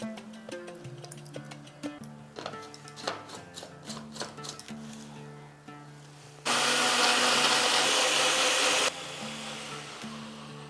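After some clattering and knocking, a kitchen grinder whirs loudly and steadily for a couple of seconds, blending cashews, green chillies and coriander stems with yogurt into a paste, then stops.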